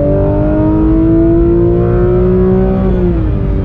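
A Porsche 991.2 GT3 RS Weissach with its high-revving naturally aspirated engine accelerating hard at speed, a loud, close, continuous rising engine wail that climbs steadily, then briefly dips as it shifts near the end.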